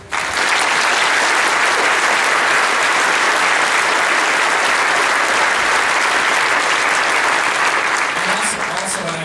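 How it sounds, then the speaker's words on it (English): A school concert audience bursts into loud, sustained applause, a dense wash of clapping that stays steady throughout. "let's hear a round of applause for that"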